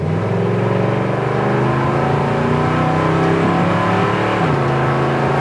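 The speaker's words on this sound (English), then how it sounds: "kick down works great, back into second, back up to third" A 1972 Chevy C10 pickup truck engine revs steadily under acceleration, a loud close droning hum that dips briefly as the transmission shifts gears near the end.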